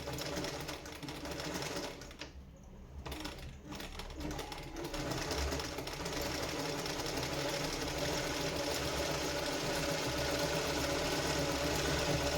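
A sewing machine stitches a saree fall using picot thread, running in a continuous fast mechanical whir that starts after a brief pause and holds steady and close.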